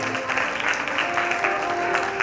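Audience applause at a Jain Updhyan Tap felicitation event, steady dense clapping from a large crowd throughout, fairly loud and continuous with some voices mixed in.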